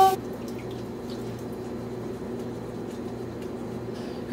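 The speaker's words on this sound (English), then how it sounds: "I'm just gonna rinse them off" Tap water runs steadily over strawberries and blueberries in a colander, a soft continuous splashing hiss that holds at an even level throughout with no talking.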